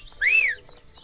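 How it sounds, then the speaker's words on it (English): A single short rising-and-falling whistle tone from an audio game set in a lush, leafy forest, clear and close over near silence. "Whistle."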